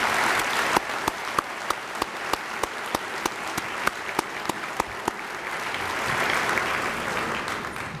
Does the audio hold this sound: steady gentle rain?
no